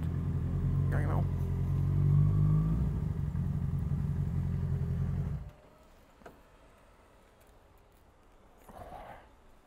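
A motorcycle idles and rumbles loudly in traffic for about five seconds, then the engine noise drops away, leaving quiet street ambience with faint voices.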